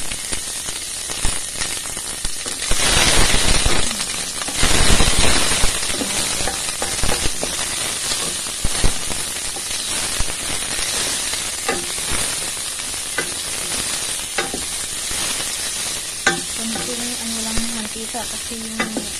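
Onions dropped into hot cooking oil, giving a loud continuous sizzle with surges and bursts near the start, along with scraping stirring strokes and clicks throughout.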